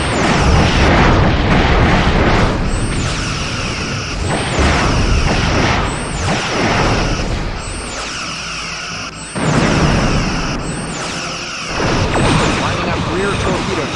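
Phaser fire in Star Trek Bridge Commander, with a series of loud repeated energy blasts and booming impacts arriving in rhythmic bursts over ship ambience, while a voice talks during the combat.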